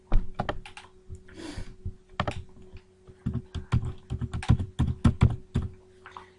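Typing on a computer keyboard while entering a matrix in MATLAB, with irregular bursts of close, crisp key clicks and thunks separated by short pauses, no talking.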